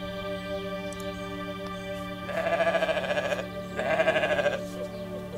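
Goats in the video game The Stillness of the Wind give two drawn-out, quavering bleats one after another over a steady, faint musical background, with no talk.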